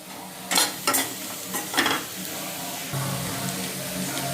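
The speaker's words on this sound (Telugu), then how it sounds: "కాస్త పసుపు అండ్ కారం, మన టేస్ట్కి తగ్గ కారం వేసేసుకొని కాస్త ఫ్రై అవ్వనివ్వండి" Turmeric and chili powder frying in a pan for a thotakura liver fry, a low continuous sizzle broken by several sharp spoon scrapes and stirring knocks, the frying growing louder near the end.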